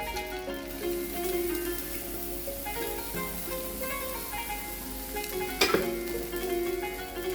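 Dosa batter sizzles on a hot pan, a steady, close frying hiss with a brief sharp clink of a utensil partway through and no talking.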